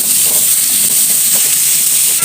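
Sliced onions frying in a pan for a homestyle Kerala beef curry, a loud continuous sizzle and steamy hiss with faint stirring scrapes, close up and without talk.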